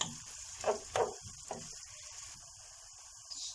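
Chopped green peppers sauté in a pan for a green bean dish, giving a few brief scraping stirs over a soft, faint sizzle before quieting.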